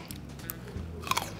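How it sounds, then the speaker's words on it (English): A large, crunchy grape is bitten into with a few quick, close crunches and brief snaps, short and fairly soft. "Bro, that grape is huge. It's crunchy too. Y'all hear that?"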